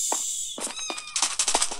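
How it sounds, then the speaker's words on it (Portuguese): A cat in the Minecraft Pocket Edition video game meows several times in short, clear, close calls, mixed with other light game sounds and no talking. "Ai, um gatinho tá escondido."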